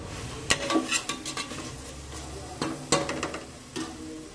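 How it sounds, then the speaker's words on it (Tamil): Spoon scraping and clinking against a pan while egg biryani masala with curry leaves is stirred, a few sharp metallic knocks among softer scrapes and a faint sizzle, close by. "இதையும் நல்லா வந்துட்டு மிக்ஸ் பண்ணிக்கோங்க."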